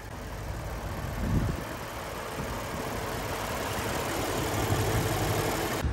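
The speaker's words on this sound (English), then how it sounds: "under the hood, 5-liter V8 producing 471 horsepower" A 5-liter naturally aspirated V8 in a Lexus IS 500 F Sport idles steadily with a constant low rumble and a slight swell early on, heard close with the hood open.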